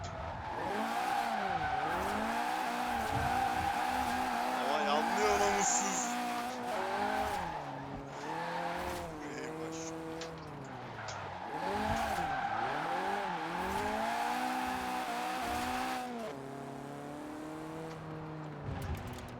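A Fiat 131 in the racing game Forza Horizon 4 revs and slides, the engine note rising and falling repeatedly through gear changes while tyres skid and squeal, steady and close throughout.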